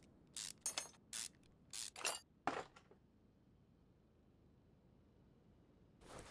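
Rusty brake caliper on a worn-out car brake being worked loose with tools: several short, sharp scraping and spraying bursts in quick succession, fairly close, then a long quiet stretch before one more burst at the end.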